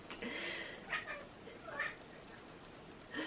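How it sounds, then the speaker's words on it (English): A cat meows several times indoors, fairly faint and close by, in short calls spread across a few seconds over a low background hiss. "My cat."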